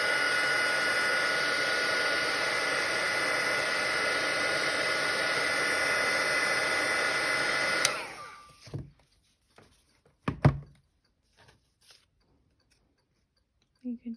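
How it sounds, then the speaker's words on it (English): A heat gun blows hot air over embossing on a handmade Stampin' Up Christmas card, a loud, steady rushing whoosh that lasts about eight seconds and then cuts off, followed by a few faint handling clicks. "Using your heat gun, I'm just going to heat that up."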